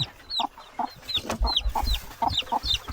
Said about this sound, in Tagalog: Parang mayroong sisiw, Brad.